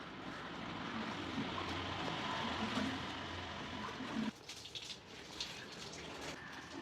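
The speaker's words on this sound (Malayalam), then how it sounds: "രണ്ട് വെള്ളത്തിൽ കഴുകി എടുക്കാം" A towel is rinsed by hand in a basin of water, making a continuous sloshing and swishing that suddenly drops to softer drips and small splashes.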